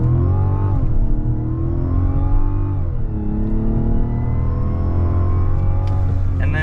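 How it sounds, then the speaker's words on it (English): A Mazda CX-70 turbo SUV accelerates hard from a standstill, its loud engine note climbing and dropping through gear shifts in a steady, close rising roar, with no speech over it. "0 to 60 in the all-new CX-70"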